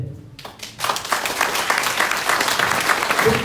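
Applause from the audience at a national council meeting, starting after a brief pause and swelling into sustained, fairly loud clapping from a large crowd, with no speech over it.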